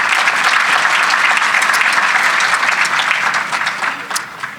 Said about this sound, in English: So let's have a round of applause for our sponsors